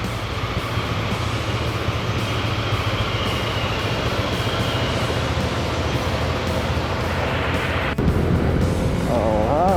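Two adventure-touring motorcycles in the Cordillera mountains ride off, a steady loud engine drone with low rumble and wind roar throughout, shifting slightly near the end.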